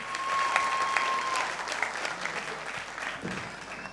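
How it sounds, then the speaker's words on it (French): Audience at a singing competition semifinal claps steadily in a dense, sustained round of applause, with a thin tone and faint voices mixed in before it gradually tapers off. "pendant qu'on applaudit pour Sanou Armel"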